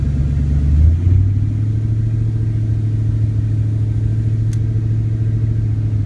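A 1993 Ford Mustang LX 5.0 convertible with an automatic gearbox rumbles loudly up close, its engine note dropping as it shifts up early on, then holding a steady low drone.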